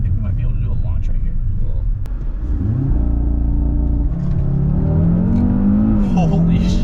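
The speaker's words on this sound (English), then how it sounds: "I think we might be able to do a launch right here" A 2020 Audi RS3 launches hard from a stop, heard from inside: a low engine rumble rising through rapid revving gear pulls, loud and close, with people talking over it.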